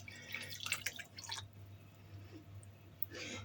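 Vinegar poured into tomato adjika made with horseradish and garlic, soft close dripping and liquid splashes in a quiet kitchen, a short run of trickling followed by a pause and a final splash.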